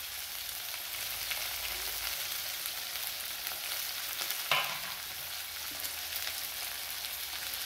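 Tomato, green chili and curry leaves fry in a pan as a soft, steady sizzle with occasional faint stirring scrapes and a single small knock near the middle.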